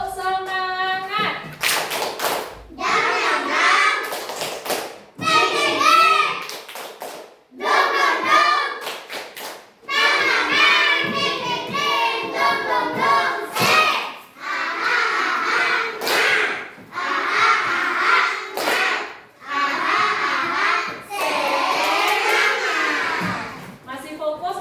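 Schoolchildren in a classroom doing a rhythmic spirit clap, bursts of patterned clapping alternating with loud chanting voices across the whole stretch.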